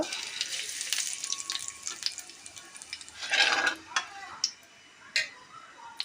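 Nigella seeds sizzling in hot oil in a wok, a bright fizzing crackle with small ticks and a few sharp pops and stirring scrapes, close by with no talking.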